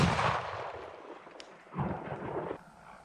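A Benelli M1014 shotgun firing NSI 12-pellet buckshot at a 10-yard target outdoors, with two loud booming blasts and their rumbling echo decaying between them.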